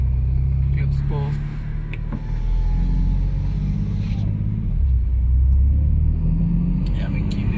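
BMW M2 CS sports car engine, rated 450 hp, droning with a steady low rumble while driving, heard from inside with a person talking over it throughout.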